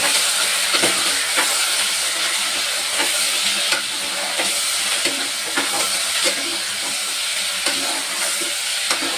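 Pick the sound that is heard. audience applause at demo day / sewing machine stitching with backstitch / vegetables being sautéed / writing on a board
vegetables being sautéed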